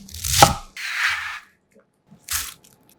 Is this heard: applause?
no